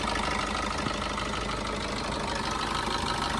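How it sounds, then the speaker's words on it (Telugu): A 2019 Maruti Suzuki Vitara Brezza ZDi diesel engine idles steadily up close, a continuous low clattering rumble with even rhythm and no talking. "సింగిల్ సెల్ఫ్లో స్టార్ట్ అవుతుంది సార్ బండి అయితే ఎటువంటి స్టార్టింగ్ ట్రబుల్ అయితే లేదు"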